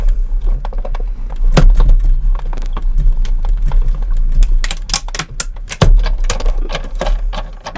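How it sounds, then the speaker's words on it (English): Die cut machine pressing number dies through paper scraps, an irregular run of sharp clicks and clacks over a low mechanical hum, close and fairly loud. "running it through my die cut machine"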